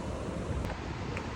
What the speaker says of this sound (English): Bit windy today, the flags were blowing.